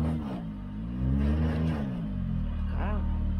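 A Can-Am Maverick X3 XRC UTV engine revs and accelerates off-road, its pitch rising and falling through throttle bursts, moderately loud and close, with people calling out in Portuguese over it.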